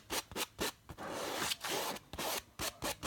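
Paper towel rubbed over a canvas during oil painting gives a run of close, dry scratchy strokes, short bursts with one longer continuous rub in the middle, and no talking.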